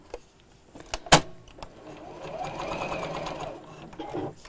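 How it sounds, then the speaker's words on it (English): A sewing machine stitches ribbon into a fabric seam, running steadily for a few seconds after a sharp click, close and clear with no talk over it. "And sew it in place."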